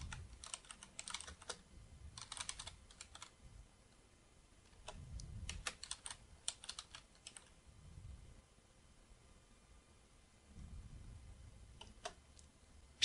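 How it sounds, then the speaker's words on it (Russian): Typing on a computer keyboard while entering list items in Microsoft Word 2007, with bursts of quick, light key clicks separated by pauses and occasional heavier keystrokes, close and fairly quiet, with no talking. "Нажимаем клавишу Enter и печатаем второй элемент."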